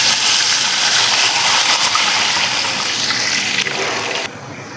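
Water pouring steadily into a pot of rice for Kashmiri daal chawal, a loud continuous gushing stream that cuts off abruptly near the end.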